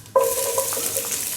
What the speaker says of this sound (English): We're first going to start off by dropping in those fennel seeds